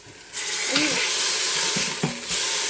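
Beef roast searing in a pot, a steady loud sizzle and hiss that starts abruptly and cuts off near the end, with brief thumps of the meat being moved.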